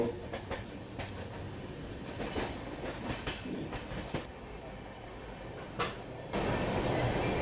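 The Delhi-Mumbai CR Rajdhani Express runs on rails through a ghat section near Kasara. Steady wheel rumble carries rhythmic clickety-clack beats from rail joints, with a louder, denser roar building near the end.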